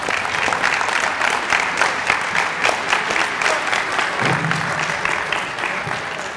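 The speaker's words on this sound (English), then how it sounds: "And another round of applause for our Academic All-State." Audience applause at a high school football awards ceremony honoring Academic All-State players, sustained hall-filling clapping with a brief low voice or murmur near the end.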